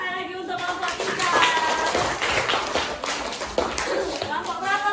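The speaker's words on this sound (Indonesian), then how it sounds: "tepuk tangan sekali lagi untuk kelompok kita." A classroom of students clapping for a student group, brisk uneven hand claps with children's voices and chatter mixed in over about five seconds.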